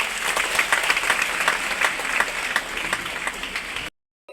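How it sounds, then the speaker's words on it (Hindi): A crowd applauds loudly with dense, continuous clapping that stops abruptly near the end. "सर के लिए जोरदार तालियां यार।"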